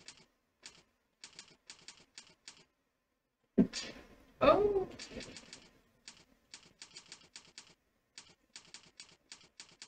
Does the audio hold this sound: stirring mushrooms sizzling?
no